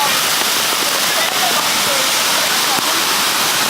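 Tinago Falls waterfall in Iligan City pours in a dense, steady, loud roar of falling water that fills the whole stretch without a break.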